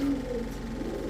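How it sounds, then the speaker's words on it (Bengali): A single female pigeon gives a short, low cooing note, close and soft, lasting about a second. "জাবরা পাখি, জাবরা পাখি, একটা মাদি কবুতর"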